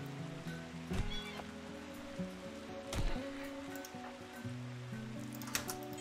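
A horse whinnies in RimWorld, the medieval melee modded game, its stretched tonal neighs standing out over a steady bed of game music and rain-like background noise, with a couple of sharp impacts along the way.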